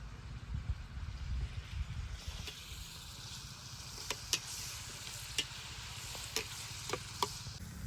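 Mutton going into a hot pan and frying, a soft sizzle under low rumbling stirring sounds, with several sharp clicks and taps of a spoon against the pan in the second half.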